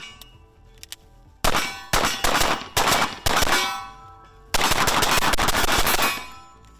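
Pistol shots from a Jacob Grey Nox9 fired as double taps at an outdoor range, several sharp loud cracks in quick pairs with metallic ringing after them, then a rapid burst of shots near the end.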